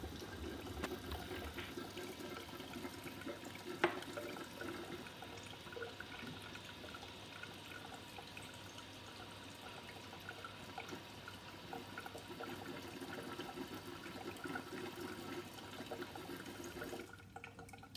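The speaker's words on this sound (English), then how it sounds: "So I'm going to turn on my suction filter." Suction filtration of a hot methylbenzoate nitration mixture through a vacuum filter gives a steady watery rush and gurgle that runs unbroken and fairly quiet, with one brief clink partway through and no talking.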